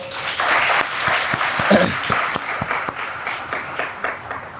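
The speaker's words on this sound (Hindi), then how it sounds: "एक बार जोरदार तालियां हो जाए" Loud audience applause at a university gathering, dense clapping that swells and holds with some sharper individual claps standing out, and a voice briefly heard within it.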